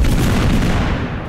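An airstrike explodes in Totally Accurate Battlegrounds with one loud, close boom that rolls out into a fading rumble over about a second.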